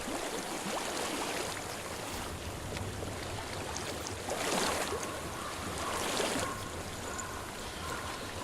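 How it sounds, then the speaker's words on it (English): Continuous rushing flow of a stream in the game Hellblade: Senua's Sacrifice, a dense steady watery hiss with gentle swells, alone without talk. "I hear water."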